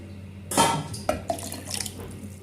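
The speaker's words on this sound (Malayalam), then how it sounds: "ഒരു മിക്സിയുടെ ജാർ എടുത്തിട്ട് അതിലേക്ക് നമ്മളിപ്പോൾ പൊടിയൊക്കെ അളന്നെടുത്ത അതേ കപ്പിൽ തന്നെ ഒരു രണ്ടര കപ്പ് ഇളം ചൂടുള്ള വെള്ളം ഒഴിച്ചു കൊടുക്കാം" Lukewarm water poured from a measuring cup into a mixer jar, a short splashing gush followed by a few light knocks and trickles against the jar, close and fairly quiet.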